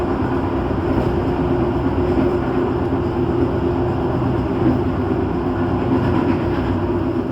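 The Taksaka passenger train rolls steadily along the rails with a continuous, even rumble and faint rhythmic clatter, heard from inside the moving train with no speech.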